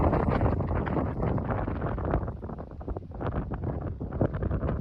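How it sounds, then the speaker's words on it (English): Strong wind buffets the microphone in a continuous, heavy rumbling roar with gusty fluctuations throughout. "it was super windy"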